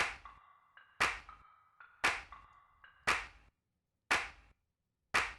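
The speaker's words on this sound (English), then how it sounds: "Claps." Gated drum claps from Bruno Mars' Treasure stems, isolated and dry: six sharp, short claps spaced about a second apart, each abruptly cut off, with faint tonal ringing between the first few.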